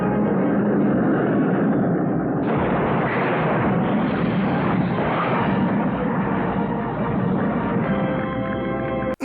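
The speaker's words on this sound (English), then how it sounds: "The Baroness makes the first move by attacking and shooting down the Joe's transport plane." Cartoon transport plane under attack and shot down: a loud, continuous roar of engine drone mixed with rumbling blasts and gunfire-like bursts, filling the whole stretch without talk and cutting off abruptly at the end.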